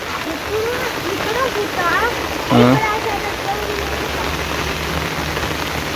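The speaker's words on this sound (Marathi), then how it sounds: "थंडगार वातावरण आणि जबरदस्त असा पाऊस संध्याकाळचा" Steady heavy rain hisses across the whole clip, with voices and a brief louder call rising over the downpour midway.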